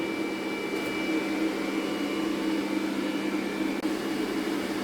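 A steady, even drone from the supply-and-extraction ventilation fan in a welding workshop, running continuously at moderate loudness with no talk over it.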